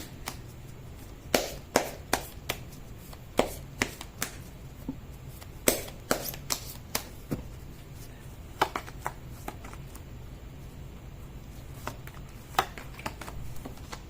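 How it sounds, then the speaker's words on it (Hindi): Tarot cards shuffled by hand during a reading: a string of crisp riffling slaps and snaps in irregular bursts, close and fairly quiet over a low steady hum, no talking. "मैं कर लेती हूँ कार्ड की शफलिंग।"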